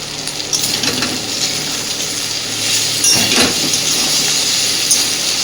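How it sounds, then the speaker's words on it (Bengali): Egg being stirred together with taro stolons and potato in a sizzling frying pan, with steady frying hiss and a few scraping, clinking strokes of the spatula throughout, close and fairly loud. "ডিমটাকে সুন্দরভাবে এবার কচুরলতি আর আলুর সাথে ভালোভাবে মিশিয়ে দেওয়া হচ্ছে।"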